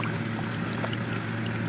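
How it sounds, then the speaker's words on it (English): Water sloshing and swishing inside a Frogg Toggs Chilly Pad, a plastic cooling towel that holds water, a steady close-up watery swirl lasting the whole moment with no talk. "Swishy, swishy, swish that around."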